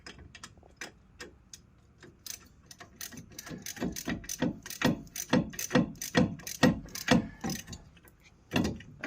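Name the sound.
tightening brake caliper bolt on Toyota Yaris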